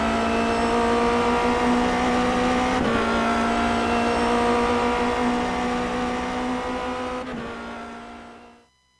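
A Formula Renault 2.0 race car lapping Sebring in a racing sim, its engine holding a steady high whine at sustained speed with a couple of brief gear shifts, fading out at the end.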